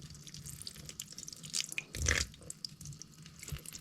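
Water poured from a pot onto dry soil in a small indoor potted plant, a soft trickling and dripping wash with a brief louder splash midway, close and quiet with no talking.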